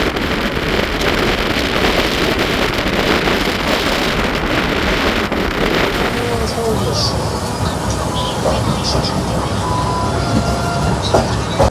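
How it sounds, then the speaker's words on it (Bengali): A passenger train runs nonstop between Bardhaman and Durgapur, a steady loud rumble of wheels and carriages with wind buffeting the microphone throughout and voices faintly under the noise. "বর্ধমান থেকে দুর্গাপুরের মধ্যে এই ট্রেন ননস্টপ চলবে"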